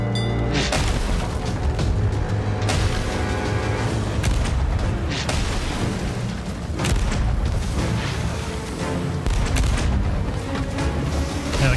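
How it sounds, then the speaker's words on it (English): Ship cannon fire during a storm in the video game Sea of Thieves: repeated heavy booms at irregular intervals over a rumbling, dense background, loud and close. "the cannon fire is pretty cool."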